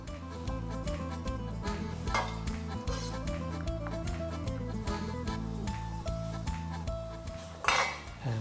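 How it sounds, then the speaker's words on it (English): Pasta being tossed through roasted tomato and garlic sauce in a pan, with repeated clinks and scrapes of a utensil against the metal, steady and close, over quiet background music. "And give that a mix around."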